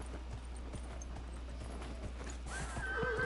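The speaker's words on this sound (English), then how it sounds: "Mount the horse." Horse in Dragon Age: Inquisition gives a rising whinny near the end, after a stretch of soft clip-clop hoofbeats over a low steady hum.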